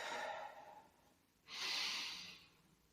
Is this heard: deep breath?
yes